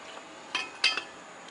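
Metal tools for a John Deere 737 mower clink together while being cleaned up, two or three faint, sharp clinks in quick succession over a quiet background.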